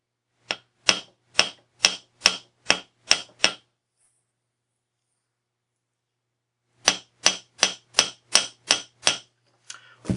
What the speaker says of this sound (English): then I'll tap it gently with a hammer